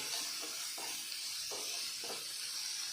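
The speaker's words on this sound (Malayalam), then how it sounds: "പച്ചമുളക്, ഇതെല്ലാം കൂടെ നമ്മൾ നന്നായിട്ട് എണ്ണയിലിട്ട് വഴറ്റണം." Green chilli, garlic and ginger sautéing in hot oil for a Kerala chicken curry, giving a steady soft sizzling hiss with a few faint stirring scrapes, quiet and close with no talk.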